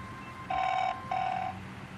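A telephone rings with two clear electronic rings separated by a short gap, moderately loud and alone, going unanswered.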